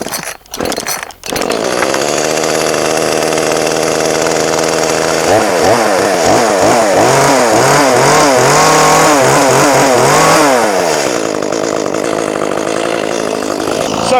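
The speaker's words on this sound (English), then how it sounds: "So let's start the saw and get going." An Echo CS310-ES chainsaw, choked, fires after a few sharp pulls, then runs loud and close at a steady idle, with several throttle blips revving the engine up and down in the middle before it settles back.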